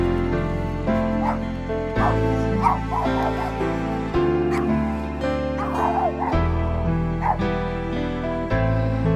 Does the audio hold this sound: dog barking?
yes